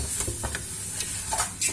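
Spiced meat and chopped parsley stirred in a frying pan, with scattered scrapes and clicks of a utensil over a soft steady sizzle, close and moderately quiet.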